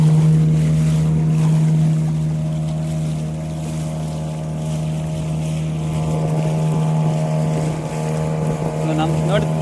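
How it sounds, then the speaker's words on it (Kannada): Tourist motorboat running on water through a mangrove forest, its steady engine drone close and continuous with water and wind noise around it, a voice briefly talking over it. "ಅವರು ಕೂಡ ಹೊರಡ್ತಿದ್ದಾರೆ ಟೂರಿಸ್ಟ್ ಬೋಟ್"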